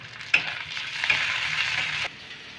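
Chopped tomato frying with onion in a pan for a kundru bharta, a soft steady sizzle with a few sharp stirring scrapes, close and without talk.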